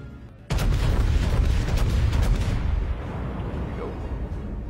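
The USS Texas battleship fires its main guns in the World of Warships naval combat game. A sudden loud boom breaks out of near silence and rolls into a long, rumbling decay that fades over several seconds.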